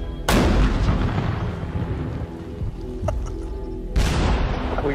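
A historical weapon charged with 30 pounds of pressure fires once with a loud, close, deep boom that rolls off slowly, followed by a second heavy blast near the end.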